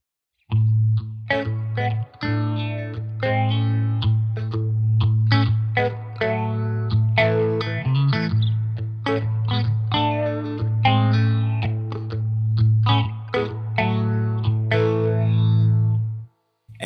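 Electric guitar played through a Sitek Phasia phaser pedal set to its hyper triangular waveform, with distorted, sustained notes and chords sweeping steadily, loud and continuous with brief gaps, no talking.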